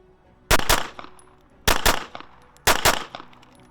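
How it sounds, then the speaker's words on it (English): Three pairs of pistol double-tap shots from a compensated UL handgun, each pair sharp, loud and close, evenly spaced about a second apart with short ringing decay. "I'm gonna double tap it a few times just so we can see the return to 0"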